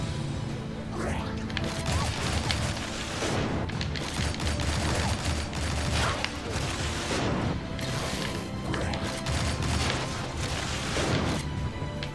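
Rapid gunfire in the video game Shank as a boss is shot repeatedly, a dense, continuous barrage of loud cracks and bursts with crashing impacts and game music underneath, no pauses.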